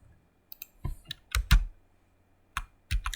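Sparse, close clicks of keys on a computer keyboard, arriving in short irregular clusters with quiet gaps between them and no one talking.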